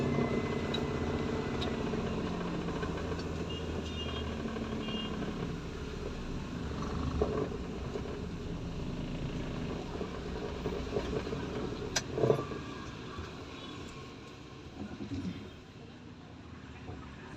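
Maruti 800 car engine idling steadily after a long, sludge-hampered start, a low continuous rumble with faint mechanical ticking and a couple of brief louder bumps near the end.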